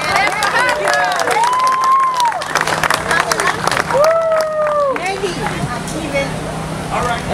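A crowd at an outdoor gathering in Wheaton, Maryland claps and cheers loudly throughout, steady applause mixed with voices and shouts while a speaker's amplified voice rises above it.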